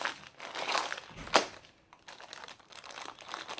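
Packaging from a Nickelodeon slime kit crinkles and crumples close by, with one sharper tearing rip in the middle and softer rustling after it, no talk.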